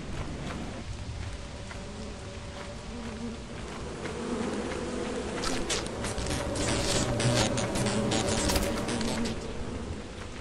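Video game bees swarm around a beehive, a steady dense insect buzz that swells louder through the second half and carries on throughout with no talk over it.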